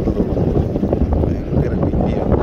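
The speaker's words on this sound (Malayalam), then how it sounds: "ഭയങ്കര ബിസിയാണ്, ഭയങ്കര തണുത്ത കാറ്റ്" Strong, cold sea wind rushes hard against the microphone near fishing boats, a dense, steady roar with no real breaks.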